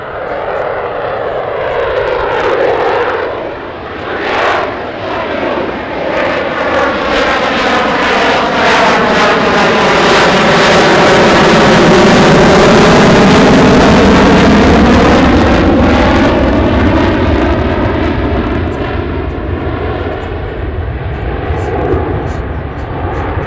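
USMC F-35B Lightning II jet flying slow and nose-high at an airshow: a loud, continuous engine roar that swells and shifts pitch as it passes, with Doppler sweep, filling the whole stretch.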